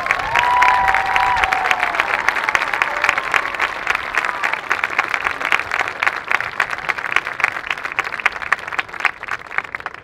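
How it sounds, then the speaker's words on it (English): An audience at a marching band competition, the Fox River Invitational, gives a long, dense round of applause, with steady crowd clapping throughout and a few brief whistles near the start. "Please extend them a well-deserved round of applause."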